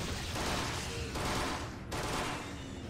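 A TMP submachine gun fires in Resident Evil 4 as a dense, continuous rattle of rapid shots, steady and fairly loud throughout, with a brief dip near the end.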